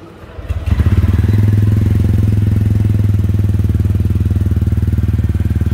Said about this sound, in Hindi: एक बार मैं गाड़ी का इंजन आपका साउंड सुना देता हूँ